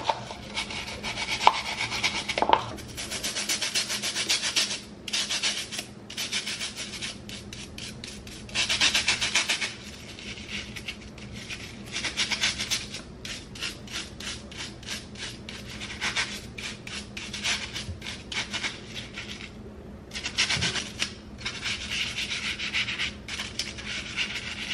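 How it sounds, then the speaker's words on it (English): Brisk scrubbing and scrunching of beauty tools during a deep clean, with dense bursts of rubbing and rasping that come and go in uneven stretches and short pauses between them, close and moderately loud, with no talking. "go ahead and enjoy the scrunching and the scrubbing and the everything"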